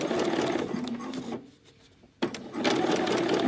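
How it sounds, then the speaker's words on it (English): Home sewing machine stitching a McCalls 7325 blouse seam, a steady close whir that pauses briefly mid-run, leaving near silence, then resumes at full speed. "I'm sewing right up to my old stitch"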